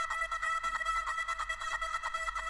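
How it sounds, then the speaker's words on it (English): A quiet, chopped vocal sample repeats in short pitched stabs, forming a bouncy rhythmic pattern on its own. "It's a vocal chop sample I found somewhere"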